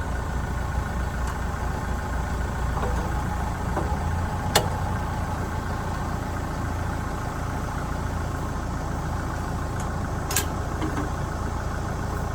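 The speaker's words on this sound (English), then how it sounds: "we'll just climb in the tractor and raise the 3-point up" A Kubota tractor engine idles steadily throughout, a constant low rumble with no speech, with a couple of brief sharp clicks partway through as the three-point hitch is raised.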